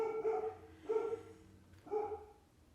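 A nine-year-old Labrador indoors gives three separate barks, spaced about a second apart and moderately loud, with no other sound around them.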